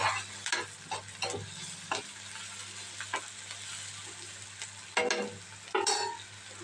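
Eggs fry in a pan for an Andhra-style egg and garlic chili dish: a soft background sizzle broken by several sharp scraping strokes of a spatula stirring and turning them, with no talking.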